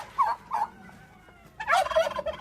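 Turkeys gobble on a museum farm near an orchard, two short calls followed by a longer burst of rapid gobbling, close and fairly loud against a quiet outdoor background.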